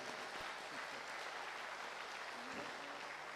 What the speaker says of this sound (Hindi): उनके लिए भी ज़ोरदार ताली।